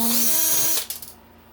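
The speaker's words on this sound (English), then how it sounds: "Gonna need to get my handy dandy little drill here." A small handheld power drill backs screws out of an e-waste circuit board assembly, a loud steady whine under a second before winding down and stopping with a few brief trailing buzzes.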